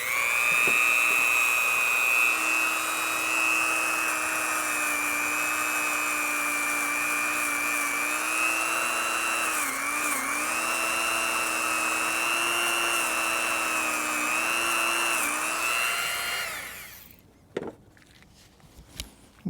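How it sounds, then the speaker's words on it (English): A Dremel rotary tool fitted with a nylon brush scrubs a metal battery cable from a GM OBS truck ABS module teardown, a steady high-pitched whine held for about seventeen seconds before it winds down and stops. "I'm just going to take a nylon brush on a Dremel tool."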